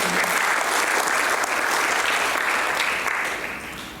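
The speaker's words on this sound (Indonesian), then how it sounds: "Coba berikan tepuk tangan bagi teman-teman." Congregation at a church synod installation ceremony applauds in a dense, loud, continuous wash of clapping that tapers off toward the end.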